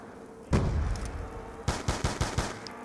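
Gunfire in Call of Duty: Black Ops 2 Zombies: a single loud shot, a pause, then a quick burst of five or six rapid shots, close and punchy.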